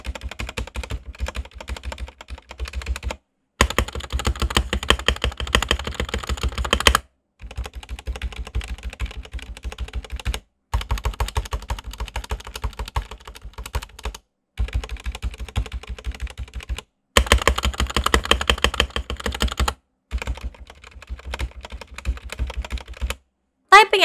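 Rexus DAXA M84 Classic mechanical keyboard being typed on in bursts of rapid, crisp clacking keystrokes, close and clear, separated by several short silent pauses.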